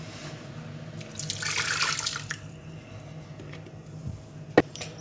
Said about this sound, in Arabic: وهنا غادي نضيف واحد شويه ديال الماء، واحد 4 كاس ديال الماء